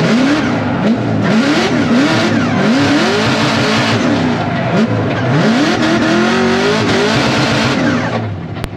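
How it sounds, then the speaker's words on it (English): A drift car's engine revs hard in a burnout box, loud and close, rising and falling in repeated throttle blips with a constant roar and some tire hiss. "Do you want to just listen to the car in the burner box, see if it's alright?"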